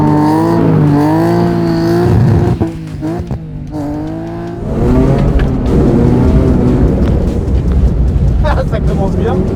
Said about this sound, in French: On est parti pour 7 km pour un petit flat out en 330 CI.